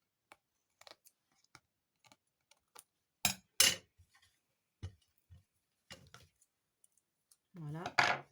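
Excess card trimmed from a handmade Halloween card, a few sparse, crisp snips and paper rustles up close in a quiet room, with short pauses between cuts.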